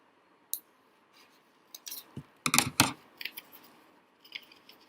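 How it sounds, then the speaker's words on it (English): Scissors snip through the extra paper flap at the back of a paper penguin craft, giving a few quiet scattered clicks and then a short, sharper cluster of cuts, close by and otherwise in near silence. "the flap which is there at the back, which is extra, we are going to cut it out"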